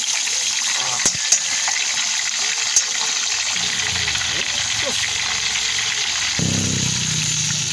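Chicken pieces fry in bubbling hot oil, a constant loud crackling sizzle with a few sharp pops, and the sizzle shifts and deepens partway through as more goes into the pan.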